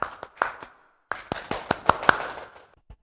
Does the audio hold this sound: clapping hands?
yes